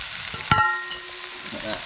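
Wild mushrooms fresh from a field sizzle in a pan over a campfire. The frying is close and steady, with a brief stir or clink near the start.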